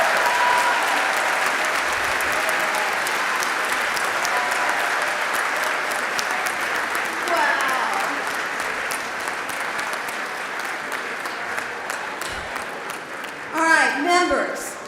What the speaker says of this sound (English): Congratulations, members. Now you can applaud.